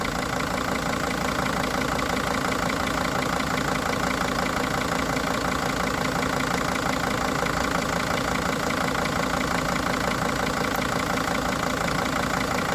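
A 2003 Sprinter van engine idling just after starting, a loud, steady, unbroken rumble with a faint knocking texture and no voices over it.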